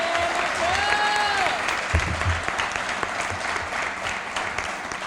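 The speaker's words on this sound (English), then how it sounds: "How about a big round of applause for Michael tonight?" Loud, continuous applause from a crowd at a high school class awards program, with a voice speaking briefly over the start and some whoops mixed into the clapping.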